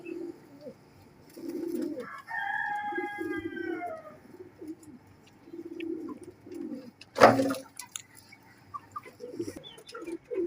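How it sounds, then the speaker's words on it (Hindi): Fulsira dobaz pigeons, an old breed, coo repeatedly in soft low bursts, joined by a brief higher call and a sharp flutter or knock partway through, close by with no talk. "ये फुलसिरे दबाज कबूतर है, पुरानी नस्ल है ये।"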